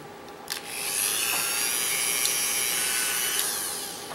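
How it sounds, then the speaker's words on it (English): A Dremel rotary tool cuts a divot into the curved steel barrel plate of a 1989 IBM Model M keyboard, giving a steady, close, high-pitched whine that swells in and holds for about three seconds. "Dremel on. And let's create another divot."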